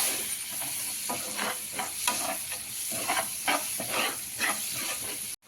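Onions and tomatoes fry in a pan with a steady loud sizzle. A spoon stirs them in a rhythmic scraping pattern throughout, and there is no talking.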